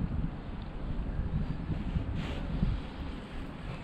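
Steady wind gusts across a trout fishing lake, a broad rumbling roar buffeting the microphone throughout, with no talk.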